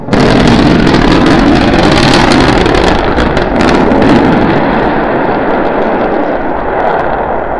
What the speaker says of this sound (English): We're preparing to restart two engines, flip the vehicle vertical, then transition to one engine for the landing burn.